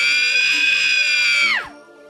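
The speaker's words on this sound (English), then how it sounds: "This is an unused scream sound effect similar to the Ravager sound effect in the Calamity mod." An unused scream sound effect from the video game Terraria, a loud sustained shrill cry that holds steady for about a second and a half, then swoops sharply downward and cuts off.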